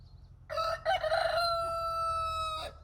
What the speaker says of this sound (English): I've got 2 cockerels and I only need 1